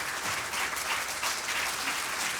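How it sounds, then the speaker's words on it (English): Applause from an audience after an opera performance in a theatre, a dense, even, sustained roar of clapping with no voices over it. "They deserve a huge round of applause."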